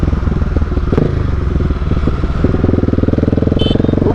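A 2017/2018 Husqvarna 701 motorcycle with an aftermarket Mivv exhaust, its single-cylinder engine idling close by with a loud, rapid, lumpy thump and a few sharp pops, with no talk over it.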